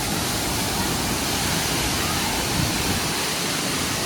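Rushing floodwater makes a dense, loud, unbroken roar of churning water that fills the whole stretch evenly, with no other sound standing out.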